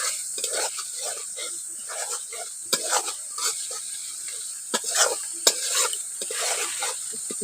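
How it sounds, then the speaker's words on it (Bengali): A spice paste of ground cumin and Kashmiri red chilli powder fries in a pan. It sizzles steadily while a utensil scrapes and stirs in irregular strokes, with a few sharper clinks. "মশলাটা খুব ভালো করে ভেজে নিয়েছি"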